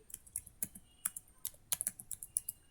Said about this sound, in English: so I am typing in uppercase